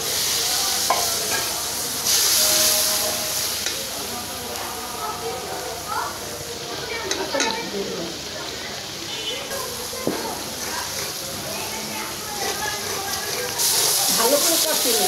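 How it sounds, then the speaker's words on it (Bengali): Fish with turmeric, coriander and salt sizzles in a pan as it is stirred, a close steady frying hiss broken by scraping strokes, with a voice speaking over parts of it. "ভালো করে কষিয়ে নেব।"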